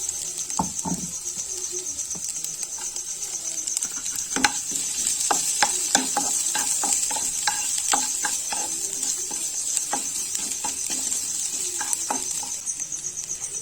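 Chopped ginger and garlic fry in a small amount of hot oil, giving a steady close sizzle broken by frequent light stirring clicks and pops throughout, with no talking.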